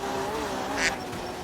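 A cartoonish duck quack sound effect pops up once, short and bright, during an Art of Rally rally driving game session, over a steady hum of the car engine.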